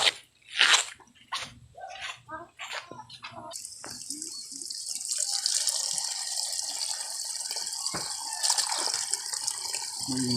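A few sharp clatters and knocks, then a steady hiss of water running from a tap for several seconds as freshly caught fish is washed, close by with no talking.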